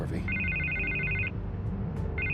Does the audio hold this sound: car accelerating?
no